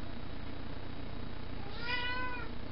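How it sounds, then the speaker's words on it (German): A cat gives a single short meow near the end, heard close over a low steady background hum. "Meine Katze hat mir gerade ihre 5 Minuten."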